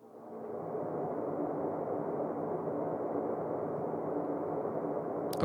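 A reverb space effect on a horror sound bus forms a steady, dense wash of muffled noise that swells in during the first half second and holds evenly, with no distinct events.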